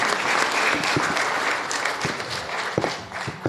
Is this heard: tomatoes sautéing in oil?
no